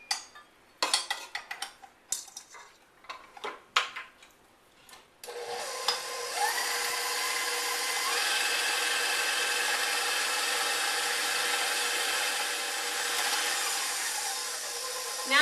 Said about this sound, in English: I've put my butter in my mixer bowl, and now I'm going to add the shortening, and we're going to mix this together